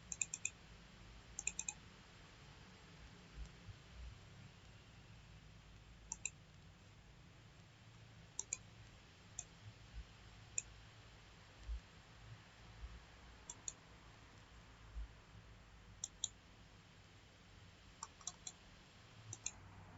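Computer mouse clicks during work in QGIS mapping software: sparse, sharp single and double clicks spaced irregularly over a faint steady room hum, close and quiet, with no talking.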